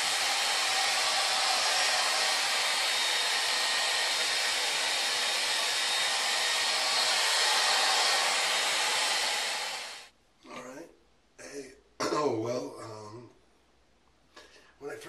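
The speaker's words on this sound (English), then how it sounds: "so now I'm going to blow dry it" A hair dryer blows loud and steady on soaped hair for about ten seconds and then switches off, after which someone talks in short bursts.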